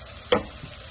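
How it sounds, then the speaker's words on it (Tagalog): Food sautéing in a pan, a quiet sizzle broken by one sharp stirring scrape or clink, brief and close. "Hintayin lang po natin itong magisa ng maigi"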